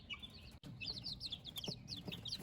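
Bantam and meat chicks peep and chirp continuously inside a brooder pen, heard up close as a busy chorus of high, quick tweets over a low background hum.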